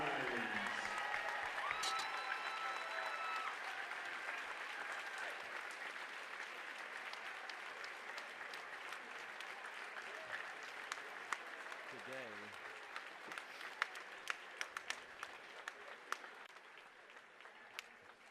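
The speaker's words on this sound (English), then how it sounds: "let's have a big round of applause for your 2010 4A State Champions" A high school basketball crowd in a gym applauds the 2010 4A state champions, a long, even stretch of dense clapping with scattered cheers, heard from a distance and fading slightly toward the end.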